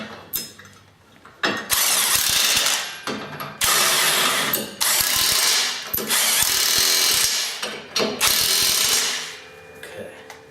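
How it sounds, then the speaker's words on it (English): An impact wrench runs down bolts in a series of loud, close bursts, about five rattling hammering runs separated by short pauses, with no talking. "I'm just going to use the impact wrench."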